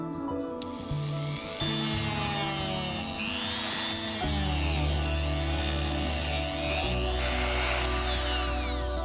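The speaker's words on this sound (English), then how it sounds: "I can grind those off easy." A power tool grinds steps off the floor of a plastic HO scale diner model kit, its whine shifting in pitch as the bit bites and eases in several bursts, close and fairly quiet.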